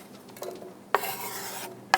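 Onions fry in a pan for dal haleem while being stirred, giving a steady hissing sizzle broken by a few sharp scrapes and clinks of a spoon against the pan, close up and with no talk.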